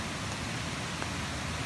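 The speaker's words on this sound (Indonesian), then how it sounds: "Pagi hujan." Morning rain falls steadily, a constant soft hiss of drops with no distinct individual impacts and no voices.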